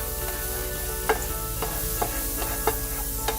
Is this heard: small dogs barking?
no